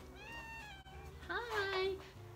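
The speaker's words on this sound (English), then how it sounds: "There's my mama kitten." A mother kitten meows twice close by, a short call followed by a longer rising and falling meow, with faint indoor background noise.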